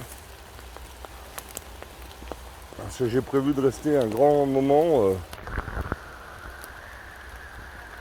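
Rain falling outdoors during a rainy harvest, a soft steady patter with scattered drop ticks, faint under someone speaking close by in French.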